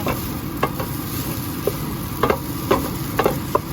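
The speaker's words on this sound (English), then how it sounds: "So saute it, and then we add the spice powders like cumin powder, coriander powder." Cumin and coriander powder sautéing in a pan for egg curry: a soft continuous sizzle close by, broken by several sharp scrapes and clicks of a spoon stirring against the pan.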